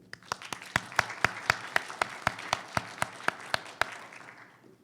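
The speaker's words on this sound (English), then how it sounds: "maybe we could just have a round of applause to congratulate Aaron on winning his ANRP award" Applause at an IETF research meeting awards session, heard as a run of crisp, evenly spaced claps about four per second, fairly close and clear, fading out near the end.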